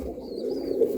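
Pigeons in a loft of flying birds give a low, soft coo up close, a short throaty murmur lasting about a second.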